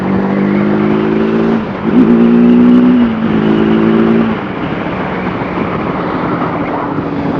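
A TVS Apache RTR 310 motorcycle accelerates under throttle on a test ride. The close, loud engine note climbs, briefly shifts pitch, climbs again, then drops back into a rougher steady drone, with no voices.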